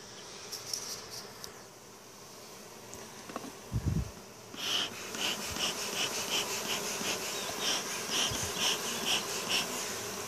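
A dense hum of bees buzzing around a hive after being smoked, continuous and close, with a few soft thumps and scrapes partway through.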